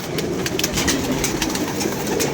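Pigeons cooing and calling in a loft during a pigeon-flying session, a steady bird chorus with soft flutters running throughout at close range, no talk.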